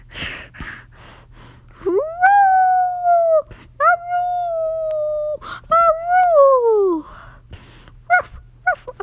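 A person imitates a dog or wolf with drawn-out howls, several long rising-and-falling wails broken by brief breaths and gasps, close and loud, with no words spoken.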